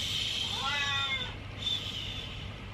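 A pet cat meows once indoors, a clear drawn-out cry close to the microphone, followed by a softer short mew over low room noise.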